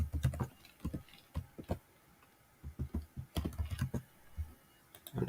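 Computer keyboard being typed on to enter a username and password, with quick irregular bursts of close, crisp key clicks broken by short pauses.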